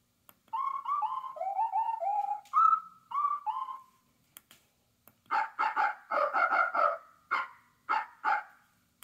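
A run of whistly, chirping bird-like notes gives way to a burst of short, sharp barks in quick succession, mostly in clusters with brief gaps.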